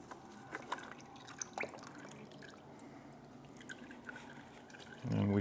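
Motor oil from a removed Moto Morini Vettore 450 oil filter drips into a drain pan, scattered faint irregular drops and trickles, quiet and close, before a brief louder clunk at the end.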